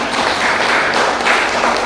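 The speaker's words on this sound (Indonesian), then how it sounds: "beri tepuk tangan, beri tepuk tangan" Students in a classroom clap in a short burst of dense applause, steady and fairly loud throughout with no talk over it.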